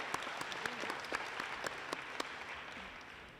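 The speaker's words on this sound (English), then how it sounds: "A big round of applause for our friends." An audience at a community grants program claps steadily in a short, even round of applause, moderately distant, with a few sharper claps standing out.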